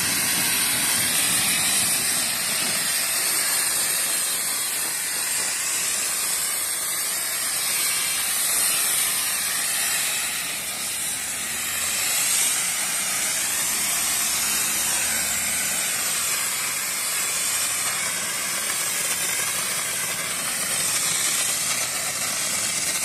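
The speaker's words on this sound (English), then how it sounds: "I remove the safety seal, pick up my nozzle, aim at the base of the fire and just press the lever." A Watermist portable fire extinguisher sprays water onto the flames of a burning crib in a continuous, loud hissing rush that holds steady for over twenty seconds, with no one talking over it.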